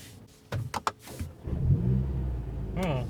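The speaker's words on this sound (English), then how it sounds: "So let's start the car with the emotion start." A starter cranks in a few sharp bursts before the engine of a 2020 Mercedes-AMG CLA45 S, started in race mode, catches and settles into a deep, steady rumbling idle close by.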